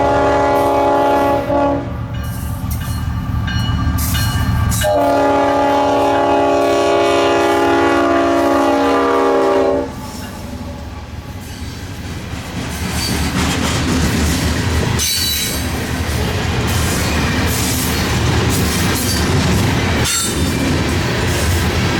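CSX freight train 453 approaches Vitus Junction on the Florida S-Line, its horn sounding loud and close in long blasts over the heavy rumble and wheel noise of the passing freight.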